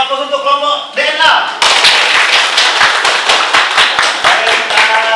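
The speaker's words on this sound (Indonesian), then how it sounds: "kita beri aplaus untuk kelompok DNA" A classroom audience at a university gives a presentation group a round of applause: dense, loud clapping that swells after a brief opening and continues steadily.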